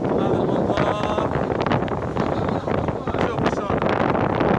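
Wind at sea aboard a boat off the Princes' Islands near Istanbul, a loud constant roar buffeting the microphone with rustling gusts throughout, no talk heard.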